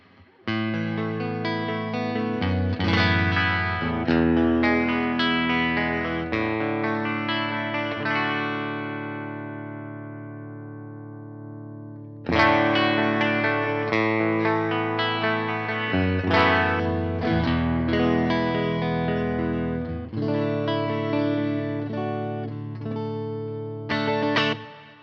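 Electric guitar played through a ToneX amp model from the Hyde Street amp locker, drenched in plate reverb, with sustained chords and single-note phrases that ring out into a long decaying tail before a second strummed passage.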